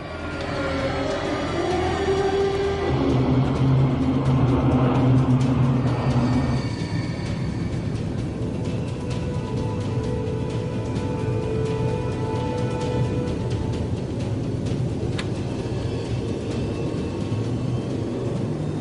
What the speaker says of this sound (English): Both planes head for the city of Kokura, 390 kilometers away.